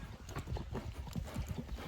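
Hooves of a 2020-born horse clip-clop in a steady, close rhythm, loud and alone with no talk over them.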